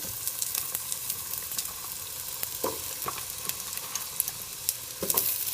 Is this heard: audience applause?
no